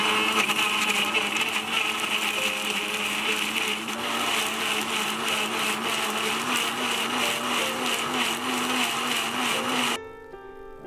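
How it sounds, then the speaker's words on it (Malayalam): A blender runs steadily on guava juice for about ten seconds, a loud continuous motor whir with a churning hum, then cuts off abruptly near the end, leaving only a faint residual rattle. "ഇനി ഇത് നമുക്ക് നന്നായിട്ടൊന്ന് അടിച്ചെടുക്കണം."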